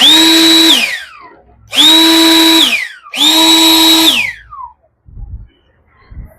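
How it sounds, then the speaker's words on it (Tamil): A 35000 Pa air blower runs in three loud, close bursts of high whining roar, each spinning up and cutting off with a falling whine, followed by a couple of faint low thumps. "இப்போ நான் உங்களுக்கு இதை கீழே வச்சும் அடிச்சு காட்டுறேன்"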